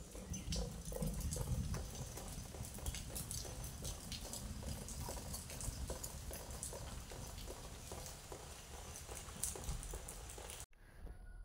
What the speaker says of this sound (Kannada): ಮಳೆ ಬರ್ತಾನೆ ಉಂಟು